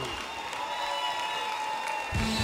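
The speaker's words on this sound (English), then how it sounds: "a big round of applause for the lady" Applause and cheering from an event audience welcoming a speaker to the stage, a soft distant wash of clapping with crowd noise, before a nearby voice begins to speak.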